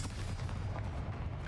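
The Confringo spell in the Hogwarts Legacy video game bursts as a dense, booming explosion, a sustained roaring blast with heavy low rumble that fills the whole moment without any talking.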